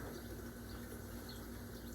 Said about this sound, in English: Rinse my sponge out.